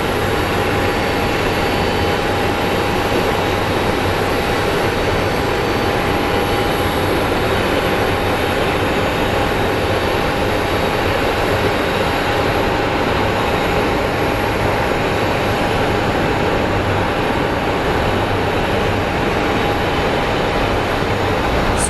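An airliner is pushed back at Phoenix Sky Harbor airport, heard as a loud, steady, continuous engine and ground-equipment drone with no breaks and no talk.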